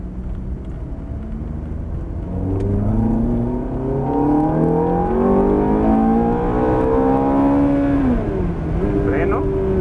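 Exotic sports car accelerating hard, engine note climbing through the revs in a loud, rising roar with a gear change near the end, heard from inside the cabin.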